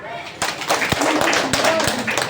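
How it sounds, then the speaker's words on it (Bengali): Children in a primary school classroom clap for a classmate, a short burst of quick, uneven claps close by. "আচ্ছা, ওর জন্য হাততালি"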